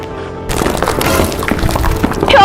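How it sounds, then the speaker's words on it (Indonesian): Warehouse roof caving in under strong wind in an animated drama, a sudden loud crash of breaking and thudding debris, dense and rumbling throughout. "Ya Allah, atap gudangku roboh beneran itu"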